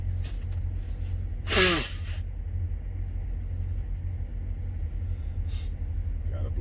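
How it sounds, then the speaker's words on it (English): A single loud, wet nose blow bursts out briefly over a constant low rumble, followed by quiet sniffing. "I gotta blow my nose."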